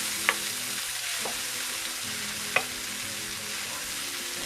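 Cooked beans and black pepper are stirred together in a hot pan, making a constant soft frying hiss with a few sharp spoon taps against the metal.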